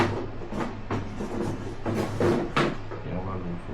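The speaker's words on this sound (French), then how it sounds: "On va fermer la boîte." An Asus Zenbook Duo 2024 laptop box being shut: several soft cardboard scrapes and thumps as the lid slides and presses closed, close by and fairly quiet.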